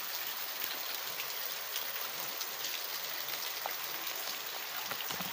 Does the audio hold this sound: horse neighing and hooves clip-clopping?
no